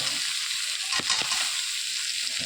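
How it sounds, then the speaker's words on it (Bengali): Green jackfruit hits a wok of frying spices, giving a steady close hiss of sizzling oil with a few soft knocks of stirring about a second in. "এবার এঁচোড়টা দিয়ে দেবো কড়াইয়ের মধ্যে।"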